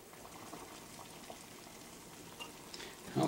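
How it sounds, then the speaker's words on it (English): Water with chaga chunks boils hard in a pot for tea, a soft continuous bubbling and crackling simmer with a few louder pops and a burst near the end, fairly quiet overall. "Okay, well now it's boiling hard."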